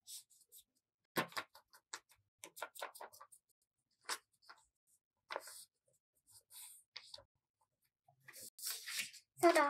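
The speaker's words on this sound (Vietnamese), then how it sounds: "mình sẽ dùng bút chì để vẽ xung quanh cái đường viền những cái đường lượn sóng nhé" A pencil drawing wavy outlines on folded white paper, heard as faint, close scratchy strokes in short irregular bursts separated by quiet gaps.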